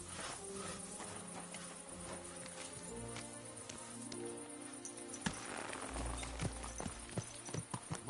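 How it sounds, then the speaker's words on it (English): Horse hooves clip-clopping in a game-like village scene, a steady rhythmic clopping with crickets and ambient chatter underneath, moderately close. "My, what a beautiful horse."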